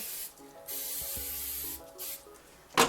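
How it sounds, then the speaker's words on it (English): Cooking spray hisses onto a hot, smoking waffle maker in a few steady bursts, with faint sizzling in between. "I'm just going to spray it down because I see it smoking over here."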